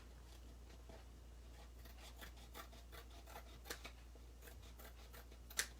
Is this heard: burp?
no